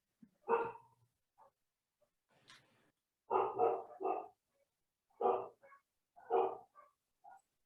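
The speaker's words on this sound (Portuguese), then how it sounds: "Tem alguém com um cachorro latindo aí." A dog barks in short, sharp bursts, some single and some in quick clusters of two or three, heard somewhat distant over an otherwise quiet background during an online meeting.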